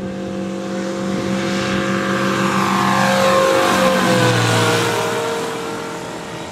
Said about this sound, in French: Là il remet les gaz.